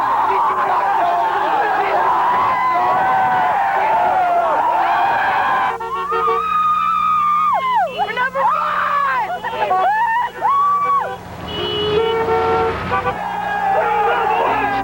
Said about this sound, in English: and outside, where the crowds filled the campus streets